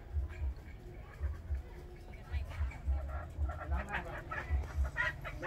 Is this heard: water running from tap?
no